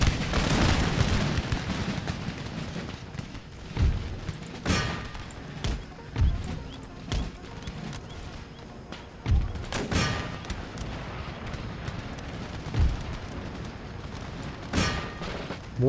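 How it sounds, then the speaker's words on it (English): Musket volleys and cannon shots ring out across a battlefield in Empire: Total War, with repeated sharp cracks and booms over a dense, continuous rumble of gunfire. "I'm going uphill right into musket fire."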